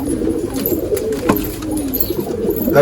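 Racing pigeons in a loft coo in low, soft, continuous murmurs, steady and fairly close throughout, with faint rustling and no speech.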